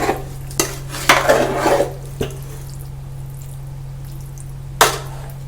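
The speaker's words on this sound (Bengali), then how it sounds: "নেড়ে মিশিয়ে নেব যাতে মশলার টেস্টটা কিন্তু এই আলু বা মাংসের মধ্যে ফ্লেভারটা সুন্দরভাবে অ্যাবজর্ব করতে পারে" Chicken curry with potatoes and spices stirred in a pot for a dhaba-style dish, a few sharp metal spoon knocks and scrapes against the pot, close and fairly loud, over a steady low hum.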